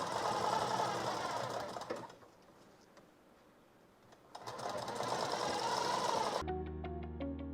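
A domestic sewing machine stitches piping cord in a fast, even mechanical whir, pausing quietly midway before running again, then ending in a clear tonal hum.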